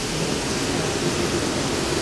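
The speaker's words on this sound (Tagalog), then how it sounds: "Lalong lumalakas yung ulan." Steady, dense rain pours down, heavy and continuous like a downpour caught mid-ride outdoors; a constant broadband wash with no breaks or voices.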